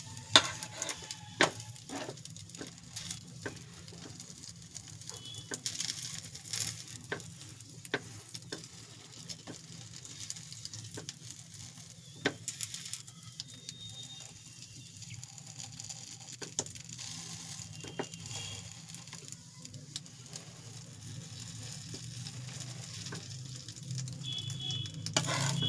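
An egg paratha fries in oil in a pan as it is pressed down, giving a soft continuous sizzle with scattered ticks and scraping taps across the whole stretch and no voices.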